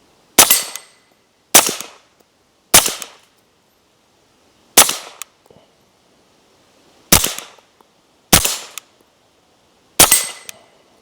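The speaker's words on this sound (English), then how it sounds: "And now I can zero this rifle from my mount." Seven loud, sharp rifle shots crack out one at a time at uneven intervals of one to two seconds as a rifle is zeroed from a tripod mount outdoors, each with a short decaying echo.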